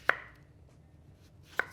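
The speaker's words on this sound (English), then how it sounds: "slice sort of 2 to 3 millimeter thick slices through that courgette" A kitchen knife cuts a courgette into 2 to 3 millimetre slices on a steady board: two crisp, close chops about a second and a half apart, with quiet between them and no talking.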